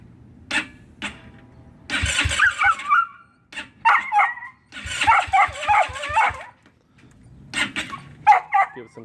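A GY6 scooter engine is cranked over in a couple of short bursts, a close, rhythmic starter churn with whining tones riding on top, separated by brief pauses.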